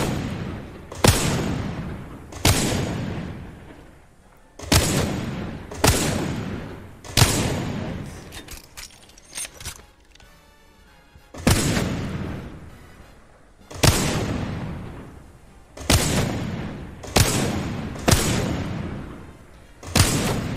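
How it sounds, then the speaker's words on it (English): Pistol shots aimed at a moving target in the video game Apex Legends ring out as loud, sharp single cracks with echoing tails, about nine spaced a second or two apart with a pause midway, close and alone. "hit that moving target with the pistol"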